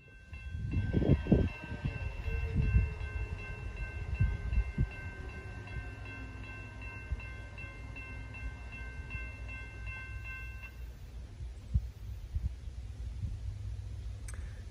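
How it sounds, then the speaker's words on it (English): A loaded southbound CSX grain freight train rumbles past with a low, steady roar, a horn sounding early on and fading, then the rolling noise continuing at a distance. "southbound loaded grain train"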